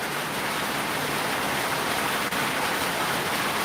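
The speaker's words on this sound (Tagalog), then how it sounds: "Grabe ang lakas ng ulan dito." Heavy rain falling during a session at the Philippine Senate. It is an even, unbroken hiss with no talk over it.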